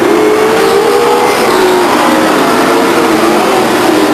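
Race cars at Stockton 99 Speedway roar past in a dense, loud pack, engines accelerating steadily with a rising pitch sweep as the field pulls toward the line.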